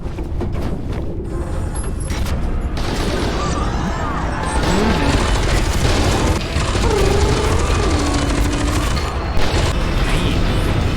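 Gunfire from a weapon in the shooter game F.E.A.R. 2, a loud continuous burst of rapid shots with clanking mechanical noise, sustained and dense for several seconds at close range.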